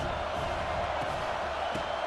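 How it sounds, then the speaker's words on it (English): Steady, dense roar of a stadium crowd in the College Football 26 video game, Arkansas vs Kentucky, loud and unbroken, with no distinct voices standing out. "This crowd trying to make life miserable for this offense."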